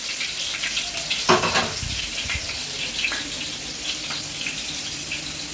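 Green chilies dropped into hot oil sizzle and crackle steadily in a pan, a dense hiss with a brief louder burst near the start, close and with no talking.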